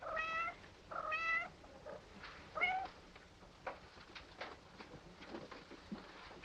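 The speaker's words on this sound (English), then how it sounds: "My poor kitties." Cats meow several times in short cries early on, then fainter scuffling and soft sounds follow in a quiet room.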